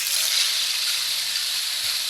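An ocean drum-style instrument called the hurricane, used in a sound bath, gives a steady, close hissing wash like rain and surf that holds evenly throughout without breaks.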